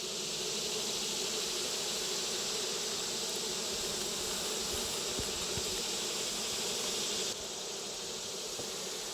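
A dense, continuous roar of buzzing honeybees close by from a queenless hive, steady and loud throughout with no voices.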